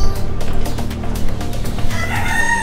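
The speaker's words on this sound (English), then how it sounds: "Yeah, I found the birds." Chickens and roosters at a bird enclosure next to a desert restaurant cluck and crow loudly and close, a busy mix of overlapping calls with a rising crow near the end.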